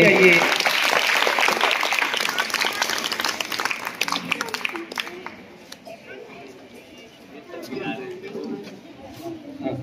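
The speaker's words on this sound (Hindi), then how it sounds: "जोरदार ताली होनी चाहिए।" Audience applause at a school event, dense and loud at first, then thinning into scattered claps and murmuring chatter.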